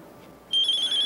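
After a brief hush, a telephone starts ringing indoors with a bright, warbling electronic tone that continues loudly to the end.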